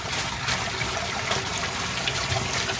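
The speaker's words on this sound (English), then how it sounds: "so I can empty this in our sink" A Thetford 345 portable toilet tank empties through its spout into a sink, a close, steady rushing pour of liquid that continues evenly throughout with no talk.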